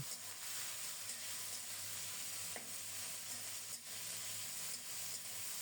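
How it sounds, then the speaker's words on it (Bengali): Potatoes sautéing in a pan with onions and turmeric, a steady soft sizzle with occasional stirring scrapes, close and continuous with no talk. "অল্প কিছুক্ষণ আলুগুলো কষিয়ে নিয়ে তারপরে বাঁধাকপি দিয়ে দেব"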